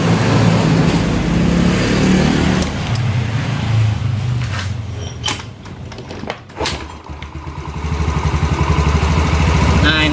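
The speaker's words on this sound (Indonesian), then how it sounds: "Untuk lebih yakinnya nih kita dihidupin dulu motornya bang" A Yamaha Xeon 125 motorcycle being worked on: clattering handling and a brief start attempt give way to the engine settling into a steady close idle, with a person speaking over it.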